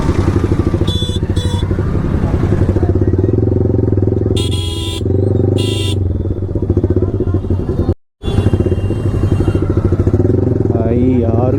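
Motorcycle engine running steadily and loud while riding through dense Mahashivratri festival traffic, with horns from other vehicles sounding in short bursts around it and voices talking throughout.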